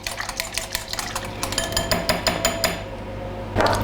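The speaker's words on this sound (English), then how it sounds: "And whisk." Eggs, buttermilk and melted butter are whisked briskly in a bowl, a rapid run of close metallic clinks and taps that stops abruptly, followed by a brief burst of noise.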